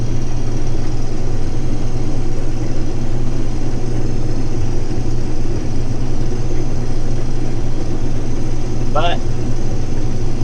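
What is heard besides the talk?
combine harvesters working in a wheat field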